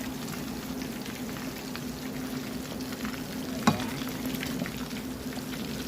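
Bonito fish frying in a covered pan, a steady crackling sizzle with a low hum underneath and one sharp clack partway through, close and alone with no talking.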